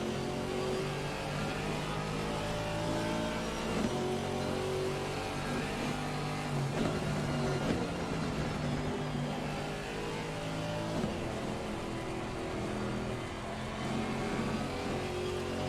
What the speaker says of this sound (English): That is the sound of the car hydroplaning with all the standing water.